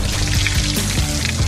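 Water from a bursting water balloon splashes down and drenches a person during a hide-and-seek game, a loud, continuous pouring gush that lasts about a second and a half with no talk over it.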